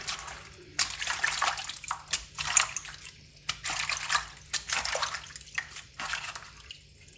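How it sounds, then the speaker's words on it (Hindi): Spinach leaves being washed one at a time by hand in a bowl of water, with repeated soft splashes and sloshing in uneven bursts, close and moderately loud, no talking. "पानी डाल के तो एक एक पत्ते को आपने धोना है।"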